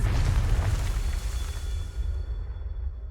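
A Confringo blasting spell in Hogwarts Legacy erupts as a loud, deep explosion with heavy rumbling low end that rolls on, then fades into a long dwindling tail with faint ringing tones near the end.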